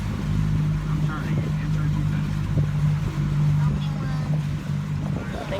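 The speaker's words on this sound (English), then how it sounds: "No, the motor turned on. It's back on." A boat motor runs steadily on the water, a continuous low drone with wind noise, while people talk over it.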